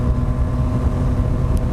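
Yamaha FZ-09 three-cylinder motorcycle with a carbon fiber exhaust, its engine running with a steady low rumble, loud and continuous with some wind buffeting.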